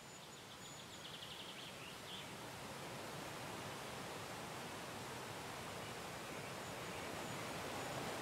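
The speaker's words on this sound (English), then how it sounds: "that waterfall is superb. If you stand here, I can hear the water to my left and the dropping water to my right." Steady rushing water from a waterfall in the first-person adventure game Fabled Woods, a constant broadband roar that holds evenly throughout with faint birdsong chirps near the start.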